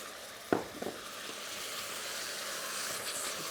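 Coconut milk hits a hot pan of Vietnamese braised pork belly with a sharp splash, then settles into a steady, even hiss of sizzling that carries on alone.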